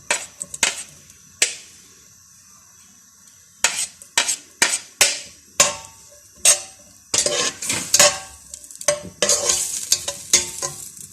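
Chicken pieces with chopped ginger and garlic hit a hot pan for fried rice, giving irregular sizzling bursts and scraping stirs that grow busier toward the end, close and without talk.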